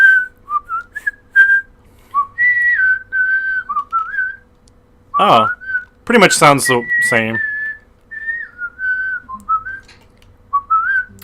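A person whistles a wavering tune by sucking air inward rather than blowing out, the thin pitch sliding up and down in short phrases with pauses, broken midway by a burst of speech before the whistling resumes.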